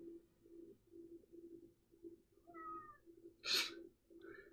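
A pet cat gives one short, fairly close meow, followed by a fainter chirp, over a steady low background hum with no one speaking.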